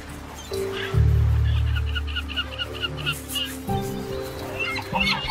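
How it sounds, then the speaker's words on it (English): Seabirds at a tropical-island tern nesting colony call in a dense, busy chorus, with a loud low honking note near the start and many overlapping cries and chatters throughout. "Their massive colonies are home to thousands of nesting birds."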